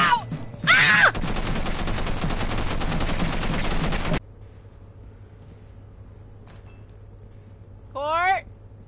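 Sustained rapid video-game gunfire roars for several seconds after a short shout, then cuts off abruptly, leaving quiet ambience and a brief electronic warble at the end.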